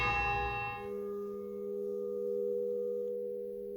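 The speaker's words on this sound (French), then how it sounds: "On entend vraiment l'écho de la cloche." A single bell strike rings out and then decays slowly, leaving a long echoing hum that fades gently in a resonant space, with no voices.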